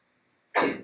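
A single short, sharp sneeze bursts out abruptly after near silence in a lecture setting, loud and close, then fades quickly.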